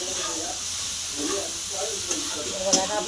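Soybean dry vegetable sautéing in a pan, a continuous soft sizzle and hiss with a few sharp stirring clicks near the end.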